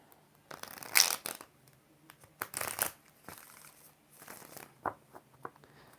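Tarot cards are shuffled by hand in several bursts, crisp riffling flutters separated by pauses and softer card taps, fairly close and quiet.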